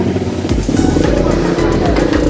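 Motorbike engine running close by on a street in the Philippines, a loud steady low rumble with rhythmic throbbing pulses throughout, with voices over it.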